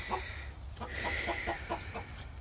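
Chickens on a small farm, including a Rhode Island Red rooster, give a quick series of about seven soft clucks at a distance, fairly faint over low background hum.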